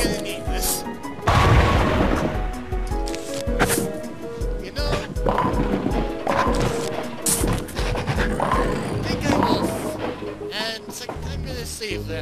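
An explode-o-nut bursts in Plants vs. Zombies, a loud booming blast early on that rises above busy game music and effects, with more thuds following and voices talking throughout.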